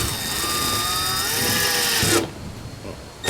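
An electric drill whines steadily for about two seconds while boring holes for an electric outboard motor mount, its pitch sliding slightly before it cuts off, followed by quieter handling noise and a brief final burst.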